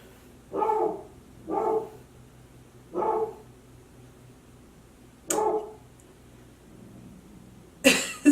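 A dog barks five times at irregular intervals, sharp single barks fairly close, with quiet pauses between them.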